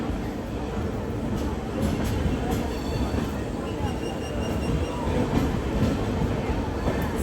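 Janshatabdi Express at Tiruchirappalli Junction with a steady rumble of passing coaches and brief high squeals from the wheels, close and continuous, while a voice talks faintly beneath the train noise.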